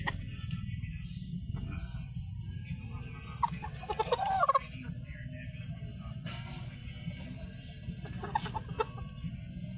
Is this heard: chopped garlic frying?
no